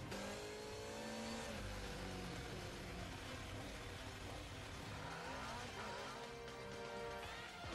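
An MV Agusta motorcycle engine revs hard and steadily on a dynamometer, its pitch climbing and dropping through repeated high-rpm pulls, loud and close, with no talking.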